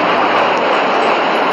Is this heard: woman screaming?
no